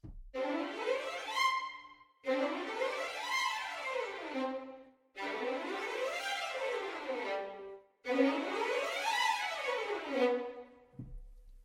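Orchestral strings from the Cinestrings Runs sample library play four quick sweeping runs, each rising and falling back down, with brief pauses between them.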